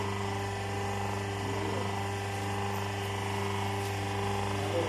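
A banana leaf plate making machine with a cutter runs with a steady electric hum and mechanical drone, fairly quiet and continuous, with no clear pressing thumps.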